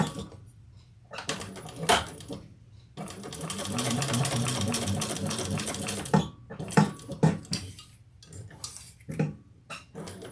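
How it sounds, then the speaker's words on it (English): Sewing machine top stitching along both sides of an opened seam on a fabric bucket bag, running in steady bursts with pauses between them, a long continuous run in the middle, near and clear. "we're going to top stitch on each side of the seam with the seam open."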